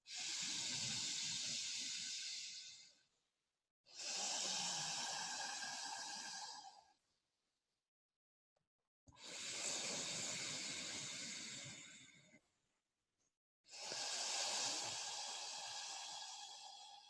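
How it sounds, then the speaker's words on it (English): Slow, deep yoga breaths drawn into the ribs, four long hissing, airy breaths of about three seconds each, separated by short silences, close and quiet, with no talking. "So the tummy is in, and we're breathing to the ribs."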